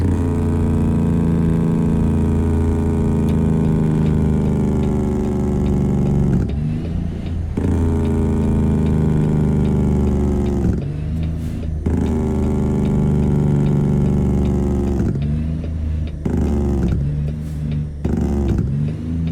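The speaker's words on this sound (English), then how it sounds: "Let's go with this engine braking." Kenworth W900 flat-top truck in American Truck Simulator, engine braking: a loud, steady low diesel rumble that cuts off abruptly several times and resumes, with no talking.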